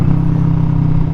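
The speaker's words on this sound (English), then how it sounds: "I've been super impressed with the exhaust, it sounds fantastic." A Kawasaki Vulcan S motorcycle with an aftermarket exhaust idles close by, a deep, steady, throbbing rumble with a fast regular pulse and no voices.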